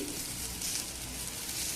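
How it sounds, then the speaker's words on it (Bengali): Eggplant slices fry in a small amount of oil, producing a continuous, close, even sizzle over a short stretch. "বেগুন ভাজাটা উল্টে পাল্টে দিচ্ছি।"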